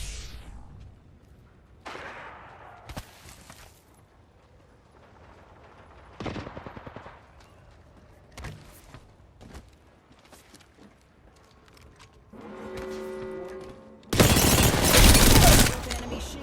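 Gunfire in the video game Apex Legends, with scattered single shots and short bursts amid quieter game sounds, then a loud, dense burst of automatic fire near the end.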